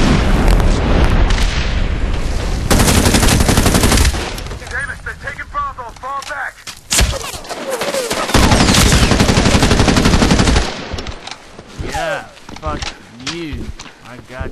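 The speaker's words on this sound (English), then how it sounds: "Someone else is shooting at me." Heavy automatic gunfire and booming explosions in the multiplayer video game Medal of Honor Warfighter, loud and sustained in long bursts, with pauses where a voice talks between the blasts.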